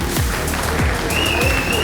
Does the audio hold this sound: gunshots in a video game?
no